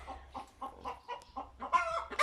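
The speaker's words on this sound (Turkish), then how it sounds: "Küçük olanlar civcivlerimiz, büyük olan da anne tavuğumuz." A mother hen and her chicks cluck in short, choppy bursts close by in a chicken coop, getting a bit louder and busier toward the end.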